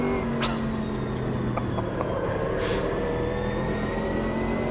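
A GT race car engine in Automobilista 2 holds a high, smooth drone with rising and falling pitch as it revs, and brief sharp transients ring out over the continuous roar.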